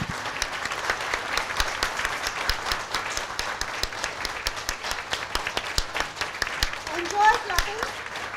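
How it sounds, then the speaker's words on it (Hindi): An audience at a lecture on meditation applauds itself, a continuous, fairly loud patter of many hands clapping close by that stays even throughout with little variation. "तालियां आपके खुद के लिए, खूब जोर से, पूरे मन से तालियां"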